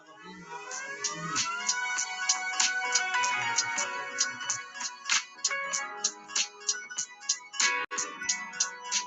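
An incoming-call phone ringtone plays a repeating melodic electronic pattern, loud and close, for the full length with no talking over it.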